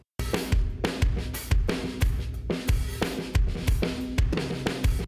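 A drum groove through an aggressive compressor with drive, heavily squashed dynamics: punchy kicks and snares pumping hard, cymbals smeared into a dense, loud wash.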